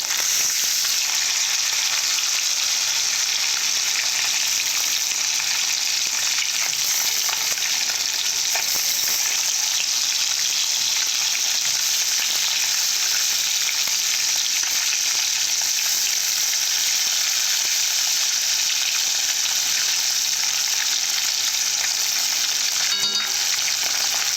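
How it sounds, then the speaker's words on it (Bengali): Laylen fish fry in a pan with a loud, constant close-up sizzle and crackle, steady throughout with a faint clink near the end and no talking. "মাছগুলো ভেজে নিয়েছি তুলে নেব"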